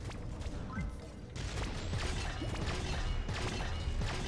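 An advanced disc thrower weapon fires repeatedly in Pixel Gun 3D, a dense run of sharp mechanical impacts and crashes over busy game noise, close and steady throughout.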